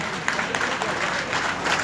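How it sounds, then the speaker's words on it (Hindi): A crowd applauds party leaders and an MP at a BJP rally in Sindri, a dense steady patter of clapping lasting under two seconds, with no talk over it. "एक बार जोरदार तालियों के साथ आप सबका स्वागत करें"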